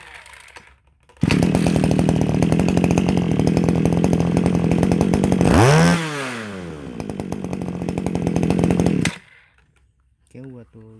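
A Robin NBKA231 23cc brush cutter engine starts and runs with a loud, buzzing two-stroke drone, revs up sharply midway, then settles and cuts off, with faint talk after it stops.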